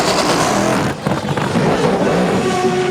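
A race car engine fires back up in the pit lane during a 2002 ALMS sports car race in Washington, D.C., giving a loud, steady mechanical roar that dips briefly and then carries on.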